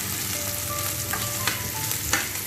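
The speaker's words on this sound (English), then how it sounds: "You can see that the onion is cooking a bit fast." Onion frying fast in a very hot pan on a hot stove, a dense loud sizzle with a few quick stirring scrapes, close up and without talking.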